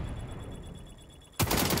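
AK rifle fire in the shooter XDefiant: a dense loud burst of rapid shots erupts suddenly after a stretch of steady game noise.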